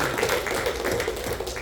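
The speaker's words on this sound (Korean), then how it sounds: "박수 한번 쳐주세요" A Korean church congregation at a group gathering gives a round of applause. Close, rapid clapping from several people keeps an even level through the short burst.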